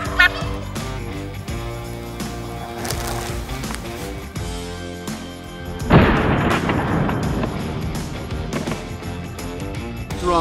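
Wild turkey gobbling in brushy eastern woodland during a spring hunt, set against a dense, busy background; a sharp, loud burst lands near the six-second mark.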